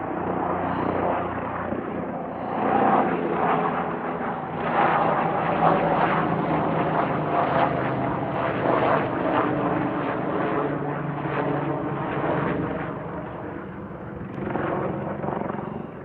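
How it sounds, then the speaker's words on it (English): A helicopter flies through a mountain valley along the Continental Divide Trail, its rotor and engine drone loud and steady for the whole stretch, swelling slightly at times, with no talking. "There's a helicopter right through the valley."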